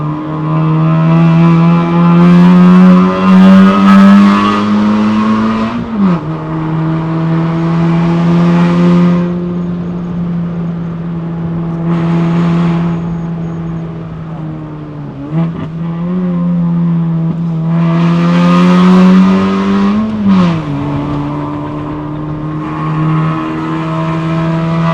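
A facelifted GK5 Honda Fit RS with a six-speed manual climbs a mountain road in Malaysia, its engine droning loudly and rising in pitch, then dipping sharply at each of several gear changes before pulling up again.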